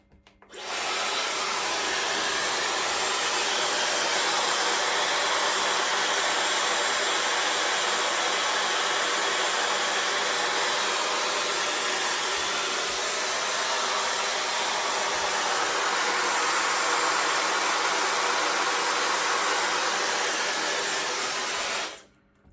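A hair dryer with a diffuser attachment runs on low heat while drying curly hair, a steady close whoosh that starts abruptly, holds for about twenty seconds and cuts off at the end, with no talking.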